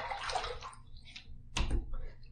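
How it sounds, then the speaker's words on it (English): Water splashed up onto a head during a head shave, brief wet splashes and a sharp slap of water near the microphone, mixed with voice. "let me throw a little more water up there"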